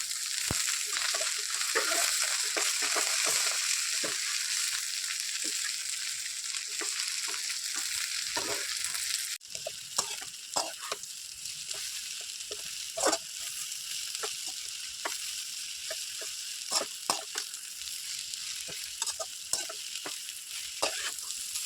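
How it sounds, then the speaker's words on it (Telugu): Gongura leaves sizzle steadily in a hot pan, close up, with frequent scraping clicks from a spatula stirring them. "కొద్ది కొద్దిగా వేసేసుకొని వేయించుతూ ఉండాలి"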